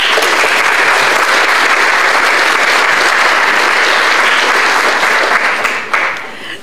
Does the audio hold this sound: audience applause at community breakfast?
yes